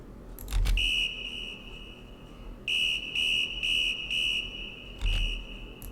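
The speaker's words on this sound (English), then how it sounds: "Standard clip, soccer whistle." A soccer whistle sample in a Latin tech house track sounds in short shrill blasts, a quick pair and then a run of pulsed toots, each backed by a booming kick drum.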